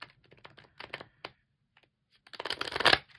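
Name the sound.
shuffling a deck of cards by hand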